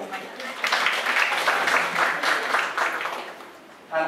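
Audience applause at a training workshop for new researchers, a steady, full burst of clapping from a room of people that fills most of the moment and fades slightly toward the end.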